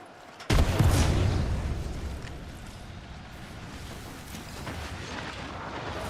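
A frag grenade blows up in Apex Legends, a sudden loud blast that rumbles and decays over a couple of seconds, leaving a steady low battlefield roar behind it.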